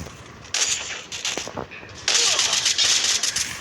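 Gunfire rings out in a video game as a string of sharp, loud shots over a continuous background of game noise.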